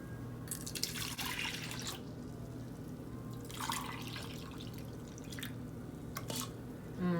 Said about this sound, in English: So I'm adding 2 cups of almond milk